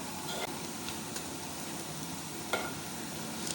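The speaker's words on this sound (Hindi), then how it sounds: "अब हम लहसुन अदरक को पकाएंगे प्याज के साथ थोड़ी देर के लिए" Fresh pounded garlic-ginger paste frying with onions in a pan for chicken aloo shorba, a steady close sizzle with a few faint stirring clicks and no talking.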